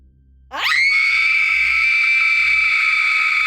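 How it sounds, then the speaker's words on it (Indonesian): A sudden, loud, sustained high-pitched scream bursts out from in front of a boarding house after a brief quiet moment and holds steady without a break. "itu suara teriakan kenceng banget dari arah depan kosan"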